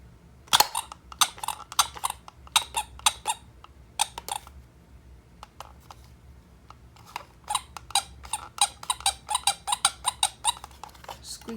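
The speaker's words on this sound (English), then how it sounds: "Squeaker sounds better." The squeaker of a restored 1960s Ambi toy camera is squeezed again and again, giving sharp close squeaks in irregular bursts with short pauses, some rapid runs near the end and no voices.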